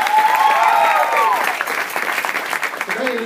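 Club audience applauding the host at a hip-hop show, loud dense clapping and cheering with whistled whoops, fading slightly toward the end.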